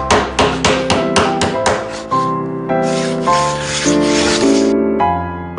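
A mountain carpenter hand-smooths timber for a wooden pencil case, a quick series of close, loud rubbing and knocking strokes followed by longer scraping passes, with music underneath.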